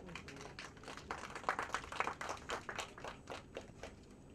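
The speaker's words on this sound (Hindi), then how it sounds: "मैं चाहती हूँ एक बार जो हमारे दो पिलर्स हैं उनके लिए जोरदार तालियां हो जाए" Scattered, light clapping from an audience at a show launch event, fairly quiet and uneven, with individual claps standing out rather than a full roar.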